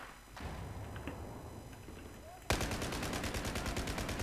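Battlefield 4 gunshots: a sharp shot, then a rapid, steady string of loud automatic fire crackling close by over constant game background noise.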